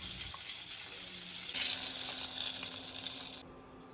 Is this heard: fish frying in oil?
yes